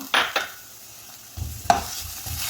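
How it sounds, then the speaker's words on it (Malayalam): Beans and capsicum are stirred in a pan for chicken veg soup, with a couple of quick scraping stirs followed by a soft, low sizzle and another stir, close and without talk. "അതും ഒന്ന് സോട്ട് ചെയ്തെടുക്കാം"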